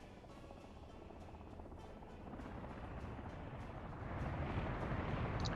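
Rotor and engine drone of an emergency helicopter in Workers and Resources, a faint continuous rumble that swells gradually as it draws closer.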